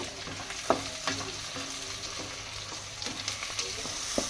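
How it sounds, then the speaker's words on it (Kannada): Onions, tomatoes and coriander fry in a pan with a constant hiss and sizzle, broken by the scrape and clink of a spoon stirring. It sounds close and steady, with no voices. "ಉಳ್ಳಾಗಡ್ಡಿ ಮೆತ್ತಗಾಗೋವರೆಗೂ ಫ್ರೈ ಆದ್ರೆ ಅದು ಮಿಕ್ಸ್ ಮಾಡಿ"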